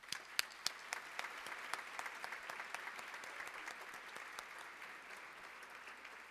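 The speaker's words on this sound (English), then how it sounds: "Let's give all of our honorees a round of applause" Audience at an annual humanitarian award dinner applauds the honorees, a steady wash of many hands with sharper individual claps standing out near the start, fairly faint and distant.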